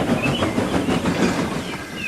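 A toy train engine rolls slowly backward down a hill, its wheels giving a steady, close clickety-clack rumble with faint squeals throughout.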